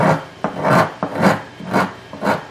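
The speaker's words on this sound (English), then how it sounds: "the way it carves here, I would say it's an epoxy for sure" Close, loud rhythmic scraping as epoxy is carved off a guitar bridge, about five rasping strokes in a steady back-and-forth rhythm with sharp onsets, no voices.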